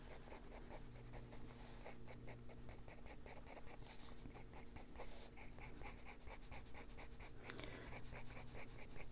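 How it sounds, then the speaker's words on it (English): Colored pencil scratching repeated lines across paper on an adult coloring page, a steady rhythmic scritch of short strokes, close and continuous throughout with no voices. "we're just going to keep drawing those lines"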